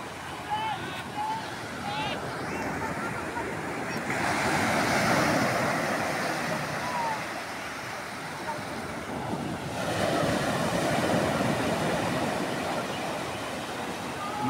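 Strong sea waves surge and wash around a small fishing boat out at sea, a steady broadband roar with swells building and easing, wind buffeting throughout and a voice speaking briefly near the start.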